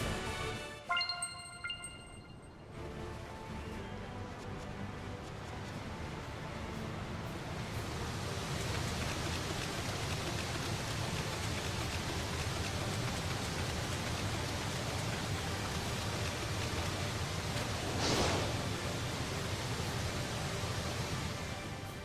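A steady, broadband rush of falling water from a waterfall in the Tales of Zestiria video game runs continuously and evenly, with a brief musical chime at the very start and no voices.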